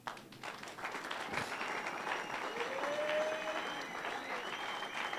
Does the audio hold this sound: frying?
no